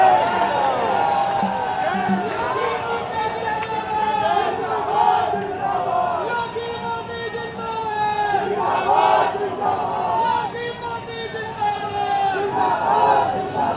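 A large crowd at a political rally for Chief Minister Yogi Adityanath in Bareilly roars, cheers and claps in a sustained, loud mass, with shouting voices and chanting layered throughout.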